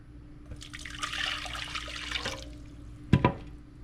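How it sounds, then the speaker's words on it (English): Water pours steadily into a pot for about two seconds with a hollow splashing rush, then stops, followed by a brief knock. "I'm going to add 2 cups of water."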